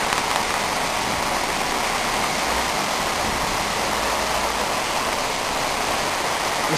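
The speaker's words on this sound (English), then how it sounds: "It's supposed to be raining now for the next 24 hours, hopefully not like this." Heavy winter-storm rain pours down in a dense, constant hiss of drops hitting surfaces, steady and loud throughout with no pauses.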